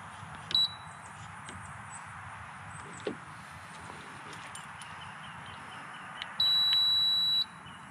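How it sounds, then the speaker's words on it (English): An RVLock keypad on an RV cargo door gives a short beep, then a longer steady electronic tone about a second long while syncing with its key fob, heard close over faint outdoor background with a few light taps. "It may take 3 or 4 times to press it until we hear a beep that's saying it's synced."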